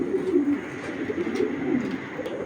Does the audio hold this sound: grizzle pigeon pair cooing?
yes